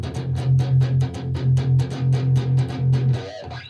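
Heavily distorted low djent-style metal guitar chugs in a tight, repeated palm-muted rhythm on one chord, loud and punchy, ending with a brief ringing chord.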